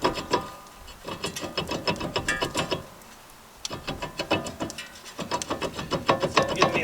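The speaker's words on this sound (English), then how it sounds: "We can take off the rotor." A brake rotor is worked off the wheel hub of a 2008 Ford Explorer, giving repeated metallic clanks, rattles and scraping in rapid bursts, close and moderately loud, with brief pauses between.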